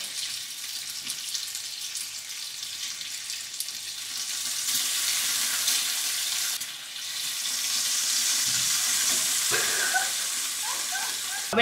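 Bacon fries on a stovetop hob with a dense, steady sizzle and crackling spits up close, swelling louder in the second half, with a few faint clinks.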